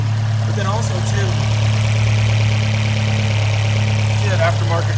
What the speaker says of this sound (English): the exhaust sounds different than the stock one that I had